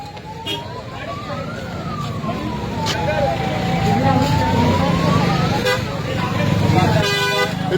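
Ambulance and police vehicle sirens pass along a road in Punjab as a farmers' union blockade opens a path. A wailing tone rises and falls steadily over rumbling traffic, with voices talking throughout.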